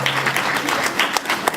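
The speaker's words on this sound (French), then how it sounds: "On peut les applaudir aussi, s'il vous plaît." Applause from an audience at a film event fills the room with a dense, continuous patter of clapping hands, loud and close throughout, with no voices over it.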